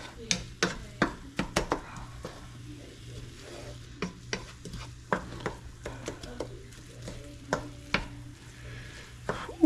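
Onions fry in a hot pan, a soft steady sizzle broken by frequent sharp scrapes and taps of stirring.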